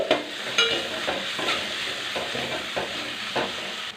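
Onion paste fries in a pan with a continuous bubbling sizzle, while a utensil stirs and scrapes it in light repeated touches, close by.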